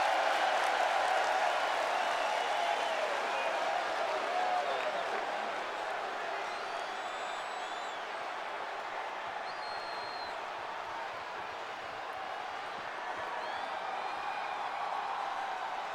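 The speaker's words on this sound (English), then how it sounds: "The crowd going wild." A virtual wrestling arena crowd in WWE 2K25 roars in a steady, dense wash of cheering and applause that fades slightly over time, continuous and broad with no distinct voices standing out.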